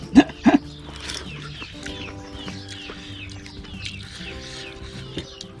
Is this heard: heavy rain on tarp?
no